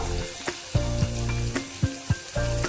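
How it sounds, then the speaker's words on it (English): Bay leaves sizzle and spit in hot oil for a Bengali chola dal, a steady close frying hiss punctuated by several sharp crackles and spoon knocks against the pan. "I'm adding 2 bay leaves into the oil"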